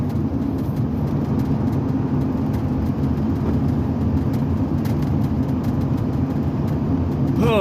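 Road noise and a low engine hum fill the cab of a moving truck, a steady, continuous rumble at close range without talking.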